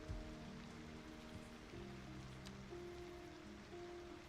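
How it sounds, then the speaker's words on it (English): Faint, continuous rainfall in a city building game, an even wash of patter with no voices, holding steady throughout. "Nice rainy sunrise."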